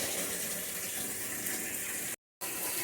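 Water pours steadily into a cooking pot for a fish curry, a continuous rushing splash that cuts out briefly before resuming.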